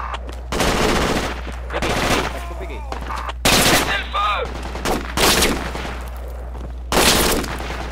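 Bursts of rapid automatic gunfire crackle in loud clusters, with a few shorter shots and whistling sounds between, over a constant low hum, in the video game Project Reality.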